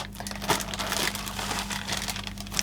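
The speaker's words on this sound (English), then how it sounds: "Oh, we've got a random plastic bag with nothing in it." An empty plastic bag crinkles and rustles continuously in handling while a Brother P-Touch D210 labelling machine is unboxed, close crackly crumpling over a faint steady hum, no talking.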